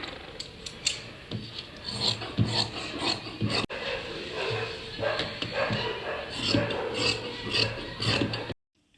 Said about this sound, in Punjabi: ਹੁਣ ਆਪਾਂ ਇਹਨੂੰ ਕਰਾਂਗੇ ਕਟਿੰਗ